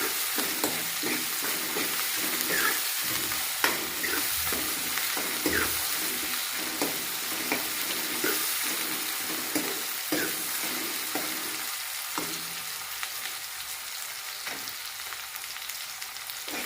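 Onions frying in oil while being stirred in a pan, with a steady close sizzle and bursts of spoon scraping and stirring throughout, with no voices.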